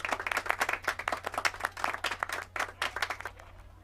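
A group bursts into brisk hand clapping, many close, crisp claps overlapping in a steady patter that thins out and fades near the end.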